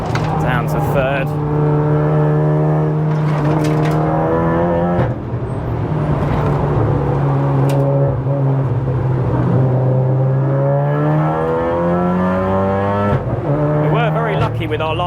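A 500+ bhp big-turbo MK7 Golf R track car on the Nurburgring drops to third and pulls hard, its engine droning loud and close with rising pitch sweeps and a short break at the shift, wind and road roar beneath.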